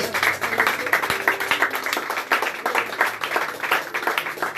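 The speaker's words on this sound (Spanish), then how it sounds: "Dale un aplauso al Rey de Reyes" A church congregation applauds after a prayer, giving dense, continuous clapping at an even level throughout without speech.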